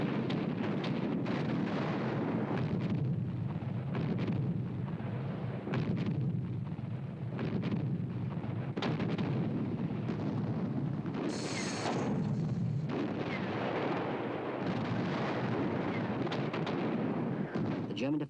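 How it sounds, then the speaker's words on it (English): Heavy artillery fire rolls on throughout a WWII winter battle north of Moscow, a dense, continuous barrage of booming blasts and cracks with a brief high whine near the middle, loud and unbroken. "General Konev orchestrated his formidable artillery"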